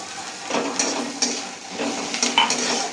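Crushed garlic sizzles in hot oil while a utensil stirs and scrapes the pan, with a few sharp metallic clicks over the steady frying hiss.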